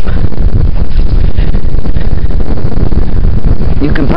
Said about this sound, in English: You can probably only hear the wind, even though I'm talking almost right into the microphone.